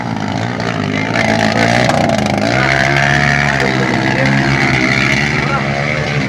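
Racing motorcycle engine roaring loud and close, its pitch sweeping and holding at high revs, with excited shouting voices mixed in throughout.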